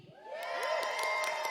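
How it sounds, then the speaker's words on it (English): Church audience cheering and whooping with rising crowd noise, bright excited shouts over a swelling roar, brief and moderately loud. "Yeah, you can clap for that"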